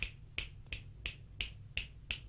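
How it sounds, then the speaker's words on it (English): Fingers snapping behind the ears, seven crisp evenly spaced snaps in a steady rhythm, close and clear against near silence, no voices. "I'll snap my fingers behind my right ear. Now behind my left ear."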